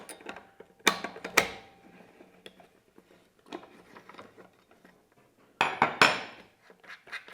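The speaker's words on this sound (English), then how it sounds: "Let me show you how this cog comes off" Pliers work a cog off a Wahoo Kickr Core trainer, producing scattered metallic clinks and ratcheting clicks, a few sharper rattling bursts standing out among quieter handling noises.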